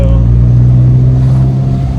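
A Honda car engine running rough, a loud close steady droning rumble with an uneven, labored tone throughout.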